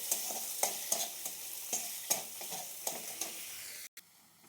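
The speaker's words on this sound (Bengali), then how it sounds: "হয়ে গেছে আমার আদা ভাজা" Ginger fries in a pan, a soft steady sizzle broken by repeated stirring scrapes at irregular intervals, fairly quiet, cutting off briefly near the end.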